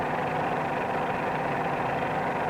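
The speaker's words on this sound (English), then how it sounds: "Another cue to the correct climbing attitude is the sound of the engine." Steady droning aircraft engine hum during a climb, working harder than in level flight, a constant mid-pitched roar with no change in rhythm, close and moderately loud throughout.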